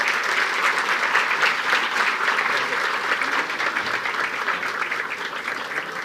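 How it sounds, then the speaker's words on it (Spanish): A conference audience at a cybersecurity talk applauds steadily for about six seconds, welcoming two speakers to the stage; dense, even clapping fills the room with no voices on top. "los recibimos con un fuerte aplauso"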